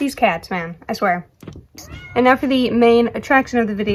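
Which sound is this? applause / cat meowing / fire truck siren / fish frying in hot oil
cat meowing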